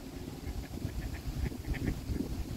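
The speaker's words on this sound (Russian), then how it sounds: "Смотри, кто там плавает. Уточки!" Ducks on a park pond quack in a loose series of short calls, moderately distant and fairly faint over a low outdoor rumble.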